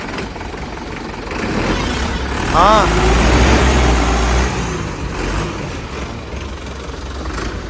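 A Sonalika 750 tractor engine rumbles closer and idles heavily, with a brief horn-like tone and a short spoken reply over it.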